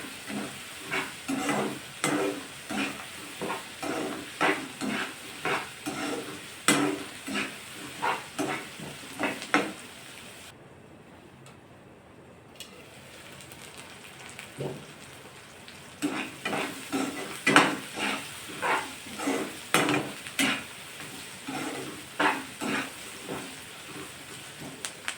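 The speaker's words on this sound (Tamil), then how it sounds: "நல்லா பொன் வறுவலாக வதங்கட்டும். வெங்காயம் பொன் வதங்கட்டும்." Onions frying until golden in a pan for an egg thokku, a loud sizzle with a regular rhythm of stirring scrapes, pausing briefly into a muffled hiss before the steady stirring resumes.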